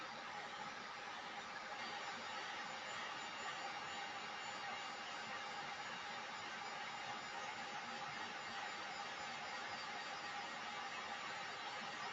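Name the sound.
heat tool blowing hot air on torch paste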